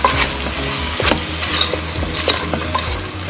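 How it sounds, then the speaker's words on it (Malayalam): Biryani masala with salt being stirred in a hot pan, loud close sizzling with repeated scraping strokes of a spoon at an uneven rhythm, no speech. "നന്നായിട്ടൊന്ന് മിക്സ് ചെയ്യാം."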